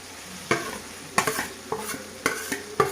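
Soybean chunks and potatoes being stirred with spices in a frying pan, a spoon scraping in five distinct strokes over a soft sizzle, close and fairly loud.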